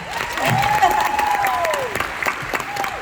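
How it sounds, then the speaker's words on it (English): A crowd claps steadily for a few seconds at a Liverpool comic convention Q&A session, the applause dense and fairly loud, with a faint tonal sound running through it. "round of applause for Vanessa."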